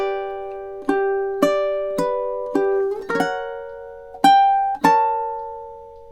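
Fingerstyle ukulele plays measures 5 and 6 of a relaxing tune: clear plucked notes and small chords ring out one after another at a slow, steady pace, each decaying before the next, with no voices over them.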